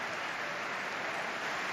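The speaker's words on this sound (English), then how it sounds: "Here applause around the Medeski Stadium" Stadium crowd applauding as a tribute to a fan, a broad, steady wash of distant clapping with no break across the short stretch.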